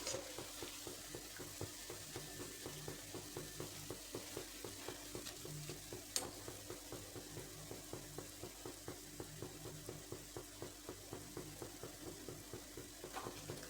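Layered wheat-flour shankarpali pieces frying in hot oil, with a steady, faint crackling sizzle full of rapid, regular little pops that keep going without a break.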